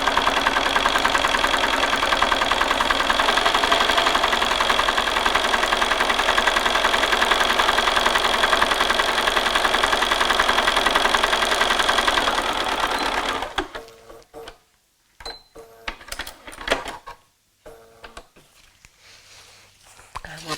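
A sewing machine runs steadily and fairly loudly for about thirteen seconds, stitching the last seam of a foundation paper-pieced block, then stops, leaving brief handling noises.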